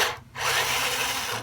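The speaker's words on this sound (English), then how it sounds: "I might have to go to a higher power drill because this wood is pretty tough." A power drill grinds steadily into tough wood of a Squier StarCaster guitar headstock during a tuner upgrade, loud and continuous after a brief pause near the start.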